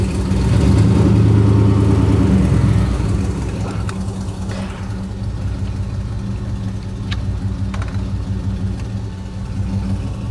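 A Buick car's engine runs close by as it backs up, with a brief rev near the start settling into a steady low idle rumble, and no voices.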